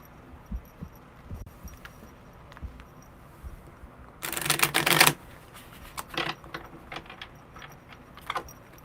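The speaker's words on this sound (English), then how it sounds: "one more good shuffle" Tarot cards are shuffled by hand in a quick, dense burst of riffling lasting about a second, followed by several shorter scattered shuffling flicks, all close and fairly soft against a quiet room.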